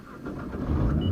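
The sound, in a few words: car engine starting with push button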